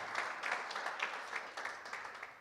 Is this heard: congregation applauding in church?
yes